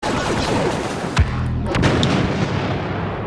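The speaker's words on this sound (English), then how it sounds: "Damn, that impact grenade is impactful." An impact grenade detonates in Star Wars Battlefront, a sharp boom at about the midpoint, set within a dense, continuous barrage of game battle noise and gunfire.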